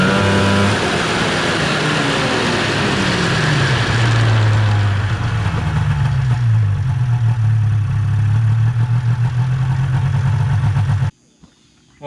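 A loud snowmobile engine runs steadily, its pitch rising and falling as it revs up and settles, then cuts off abruptly near the end.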